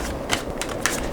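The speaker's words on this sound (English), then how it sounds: "2 more shuffles" A tarot card deck is shuffled in a few quick riffled bursts, with crisp papery flutters and snaps close by and no talking over them.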